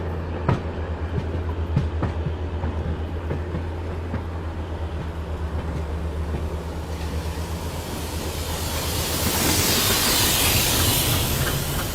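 A train stands at Delhi station, its generator car giving a loud, steady low drone under constant hiss, with rising broadband rumble toward the end as the platform noise grows.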